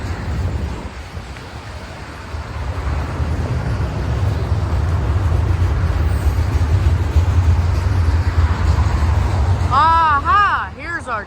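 A Norfolk Southern intermodal freight train with DPU locomotives rumbles past up close, a loud steady roar with rattling wagons and wind, and squealing tones rising near the end.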